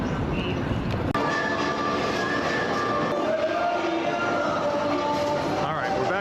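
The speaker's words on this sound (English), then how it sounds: "Let's go take our last train ride in Ukraine." Train at Kyiv's main railway station, the largest in Ukraine: continuous rolling rumble with squealing wheels and faint metallic clatter, close and steady throughout.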